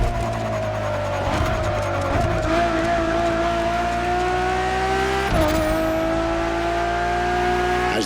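A Ferrari Enzo supercar in the racing game The Crew Motorfest roars at high revs, loud and close, its engine pitch dropping at two quick gear shifts before climbing again.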